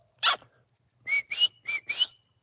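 Puppies yip and whine outdoors in the evening, one short broadband yelp followed by four quick high-pitched squeaky cries in a row, close by and fairly faint, with a steady high hiss behind them.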